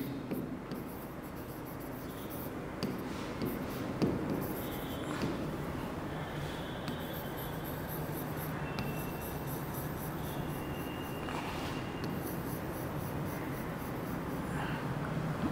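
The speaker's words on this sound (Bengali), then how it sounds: "ক্যারেক্টারিস্টিক্সে লিখছি" Steady scratching of writing on a board runs throughout at low level, with faint scattered taps and rubs and no clear speech.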